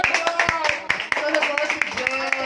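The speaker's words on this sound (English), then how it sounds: "A round of applause for the" Scattered hand claps at a family birthday party, a few people clapping irregularly while voices and singing carry on over them.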